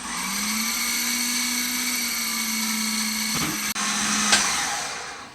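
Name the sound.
food processor grating potatoes with coarse grating disc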